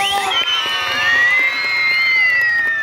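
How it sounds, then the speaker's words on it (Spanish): A crowd at a 2023 racing drivers' gathering in Ayacucho shouts and cheers on cue, loud and sustained, with overlapping voices and whoops filling the whole stretch. "Un grito yo también, por favor, por formar parte de esta historia de los Escabino."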